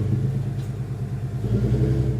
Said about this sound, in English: The garbage truck, it is coming!